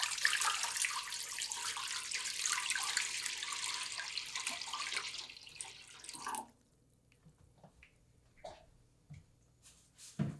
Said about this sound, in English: We're going to fill this with water. So grab your gallon of water and pour it in.